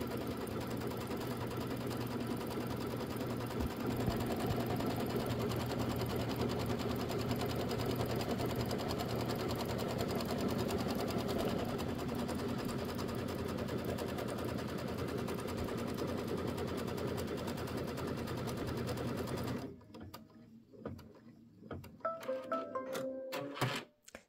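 A home embroidery machine stitches out a block of a Kimberbell Nativity bench pillow design, its rapid, steady needle clatter running loud and unbroken for about twenty seconds before stopping, followed by a few scattered handling clicks.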